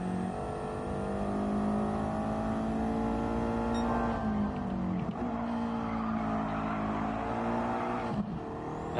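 A race car in Gran Turismo 7 drifts through a corner with a sustained engine drone and a steady, high tire squeal. The pitch bends as the car slides and catches, and it stays loud throughout.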